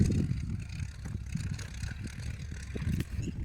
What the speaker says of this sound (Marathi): इथं ट्रॅक्टर चालू आहे आपला